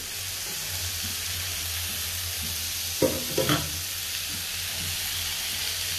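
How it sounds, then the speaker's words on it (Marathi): Flatbread crisps in a pan over a low flame with a steady, soft sizzle and hiss, broken around the middle by a couple of brief clinks, heard close with no talking. "एकीकडे पोळी ठेवलेली आहे, ती आता थोडी मंद आचेवर कडक करून घ्यायची थोडी."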